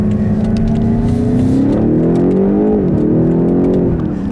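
Loud, close BMW X6M V8 from a 2018 model revving with rising and falling engine tones and a clear downshift blip partway through, continuous throughout with no talking.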